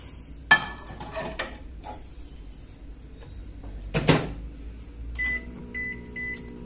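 A home microwave oven heats a plate of food in a small kitchen, its low steady hum running under a door clunk and latch clicks, then a few beeps near the end, with no talking.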